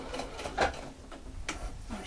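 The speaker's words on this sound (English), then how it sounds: "Just a straight line stitching." A sewing machine stitching a straight seam while mitred corners are sewn, its quick mechanical whir coming in short bursts with soft clicks, close and moderately loud, with no talking.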